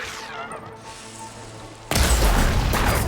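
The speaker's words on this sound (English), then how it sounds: "I love the explosion." A loud, close explosion in Horizon Forbidden West erupts suddenly and roars with a broad rumbling blast that holds steady to the end, after a stretch of quieter game sounds.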